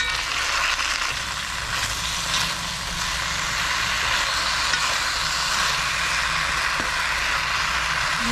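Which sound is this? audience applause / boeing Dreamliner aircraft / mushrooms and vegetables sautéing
mushrooms and vegetables sautéing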